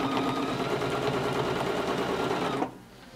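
Sewing machine running steadily while stitching curved quilting lines with ruler work, a fast even whir close by that stops abruptly near the end.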